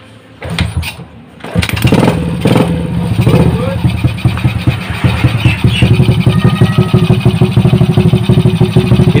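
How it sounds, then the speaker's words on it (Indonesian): Honda Supra motorcycle engine after a clutch housing repair: it starts up after a few clicks, then idles with a steady, close putter, while someone talks over it. "Ini suara mesinnya sudah halus"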